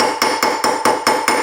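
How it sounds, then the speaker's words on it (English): A nylon hammer strikes a sterling silver bangle on a fixture, seven evenly spaced, sharp ringing taps close up with no voices. "And I'm using a nylon hammer for this."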